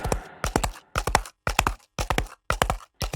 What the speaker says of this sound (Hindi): घोड़े के खुर्रों की आवाज सुनाई देती है।